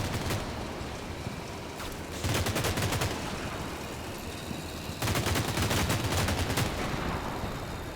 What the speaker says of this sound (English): Oh, there's definitely some fire coming out.